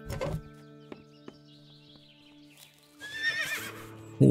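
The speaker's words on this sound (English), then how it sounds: "Horse." A horse whinnies in the video game Above Snakes, a bright, wavering neigh rising near the end of the clip after scattered soft clicks and tones of game sound, with no talking.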